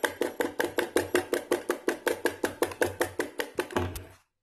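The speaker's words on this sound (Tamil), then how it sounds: "நல்லா இதை அடிச்சு மிக்ஸ் பண்ணிப்போம்" Cake batter being beaten and mixed for a plain sponge cake, a fast, steady run of about twenty evenly spaced close slaps and taps of utensil against bowl, stopping abruptly near the end.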